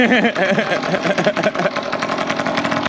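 A moped engine runs close by with a buzzy, rapidly pulsing drone that wavers slightly in pitch and stays loud and steady throughout.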